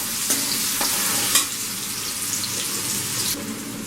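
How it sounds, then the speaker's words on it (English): Chopped carrots and lightly browned garlic frying while stirred in a pan, a loud close sizzle with a few clinks and scrapes of the utensil, no voices. "Once the garlic has started to brown lightly, add in the chopped carrots. Give it a nice stir."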